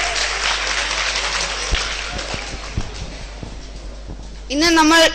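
An audience applauds at a motivational talk for teenagers, producing loud, sustained clapping for several seconds before a voice begins speaking near the end.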